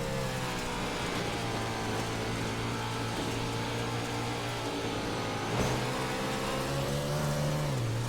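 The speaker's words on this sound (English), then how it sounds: "Listen to the throttle just about wide open around here." A race car engine held near wide open throttle at Bristol Motor Speedway, a loud, steady high drone that surges and climbs in pitch near the end, with another engine's pass swelling briefly past the mic.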